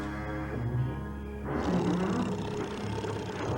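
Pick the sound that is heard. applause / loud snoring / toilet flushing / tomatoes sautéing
loud snoring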